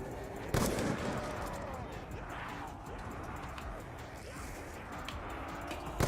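Guns fire in the zombie-survival game Black Ops 2 Zombies on the Nuketown map, with a sharp sniper crack near the start and another at the end over a dense, rumbling game soundscape, with no talking.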